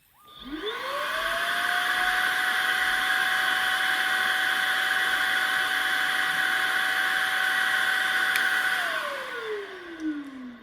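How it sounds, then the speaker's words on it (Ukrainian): A Saeyang Marathon Cyclone VAC podiatry drill spins up to 12,000 rpm, holds a steady high whine over a vacuum hiss, then winds down at the end, with no speech. "ми його вимкнули, увімкнули, натискаємо М1, от у нас 12 тисяч обертів"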